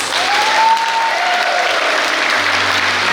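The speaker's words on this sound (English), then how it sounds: "Let us please give them a big round of applause." Graduation ceremony applause fills the hall, a steady dense wash of clapping from a large audience that holds loud and even throughout, with a faint whistle-like tone rising and fading early on.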